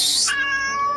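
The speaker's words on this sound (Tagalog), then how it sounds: "Tingnan mo, may pusa na naman dito." A large, plump cat gives a single drawn-out meow, starting with a bright breathy onset and sliding into a sustained tonal cry, close and clear with no talking.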